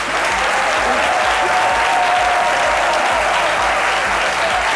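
Steady, loud applause from a studio audience on a midday TV show, a dense continuous wash of clapping hands holding evenly for several seconds without talk.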